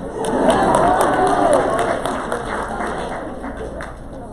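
Audience applause and cheering fill a large hall at a Down syndrome association opening session, dense and sustained clapping with crowd voices that stays loud before easing slightly toward the end.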